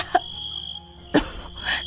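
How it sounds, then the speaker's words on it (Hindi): Two young girls coughing, a couple of short sharp coughs separated by pauses, near and moderately loud, with no talking. "वो दोनों खांसने लगी।"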